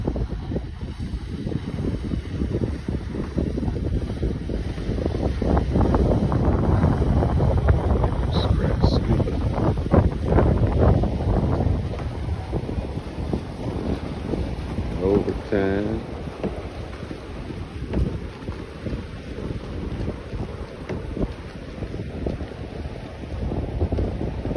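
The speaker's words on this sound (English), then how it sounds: "A couple of boats coming here." Boat engines rumble steadily as boats pass on open water at Murrells Inlet in the morning, amid wind buffeting the microphone, with a faint whine and brief chirps; a voice is heard faintly.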